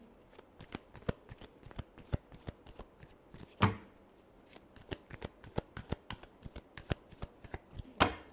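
Tarot cards being shuffled in a steady run of crisp riffling flicks and slaps, close and fairly quiet, with one louder bridge-like burst midway and another near the end, no talking.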